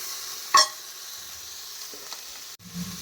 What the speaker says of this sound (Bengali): একটু ভালো করে কষে নিই লাউ ডালটা।